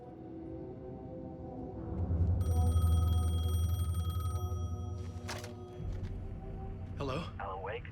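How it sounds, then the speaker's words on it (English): A payphone rings inside the video game Alan Wake 2, a steady electronic trill sitting over low, rumbling ambience for a few seconds before fading as other game sounds take over. "The payphone was ringing."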